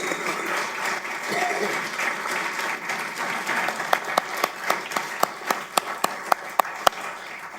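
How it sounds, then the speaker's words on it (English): Audience applause at a firefighter academy graduation, a steady wash of clapping that grows into sharper, distinct claps near the end, moderately loud. "give him a round of applause"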